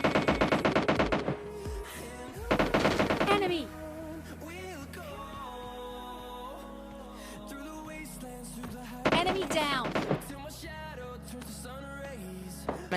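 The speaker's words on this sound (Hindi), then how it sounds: "पीछे से भी गन साउंड आ रहे हैं" Gunfire in PUBG Mobile Lite comes in three bursts of rapid automatic shots, at the start, shortly after and near the end. A voice talks and quieter game sounds fill the gaps between bursts.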